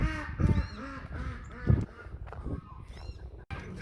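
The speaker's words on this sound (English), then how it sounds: "Curious about how many ducks in this corner there are." Several ducks call out in a loose, irregular series of honking quacks, fairly close, with brief gaps between the calls, at a riverside park in Del Rio, Texas.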